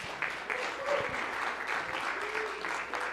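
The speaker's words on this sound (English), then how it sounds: "Let's give Marianne a round of applause" A crowd applauding at a Martin Luther King Jr. Day of Service community event, steady moderate clapping throughout with faint voices underneath.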